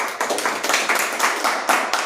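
Steady clapping from a crowd at a political gathering after district office bearers are announced, loud and close with a slightly uneven rhythm, no talking over it.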